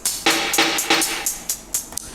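Two layered snare samples struck together in a beat, giving bright, noisy cracks in a quick repeating pattern, about every quarter second, some hits thicker than others, alone and fairly close.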